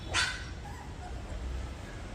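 A single sharp bark from a nearby dog, then quiet background hum.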